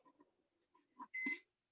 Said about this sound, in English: my microwave is beeping at me